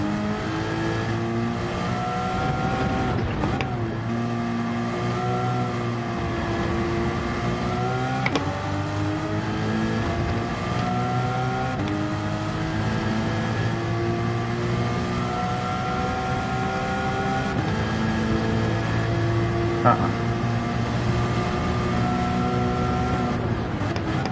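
Race car engine in Gran Turismo 7 droning loudly and continuously, revs climbing through gears with brief dips at shifts, a harmonic whine held close throughout with no talk.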